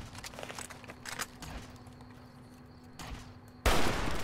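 Gunfire in the video game Fallout New Vegas: a few scattered sharp shots, then a loud, dense burst of fire that holds steady through the final half second.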